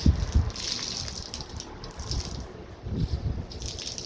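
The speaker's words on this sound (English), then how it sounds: "You want to then wring it out outside the bucket" Water splashes and drips as a microfiber wash mitt is wrung out beside a bucket outdoors, with uneven bursts of trickling and pattering liquid close by.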